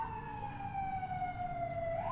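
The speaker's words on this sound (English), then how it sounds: "It's not LA if you don't hear sirens at one point or another in the" A distant emergency siren on a Los Angeles street wails in a slow, steadily falling sweep over low traffic rumble, heard alone for a couple of seconds.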